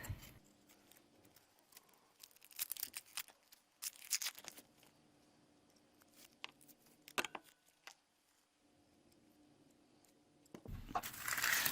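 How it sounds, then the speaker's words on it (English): The dry outer skin of an onion is peeled off by hand while preparing pickled onions for canning, quiet intermittent bursts of papery tearing and crinkling close by with hushed pauses between them. "So I'll just be peeling that off."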